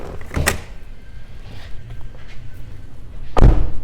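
The power sliding door or liftgate on a 2019 Chrysler Pacifica operates with a latching thump near the start, a steady mechanical hum, and a loud closing clunk near the end, heard alone and close.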